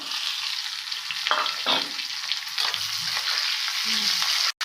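Peeled, chopped shallots frying with dal in a pan give a close, steady sizzle, broken by several scraping stirs.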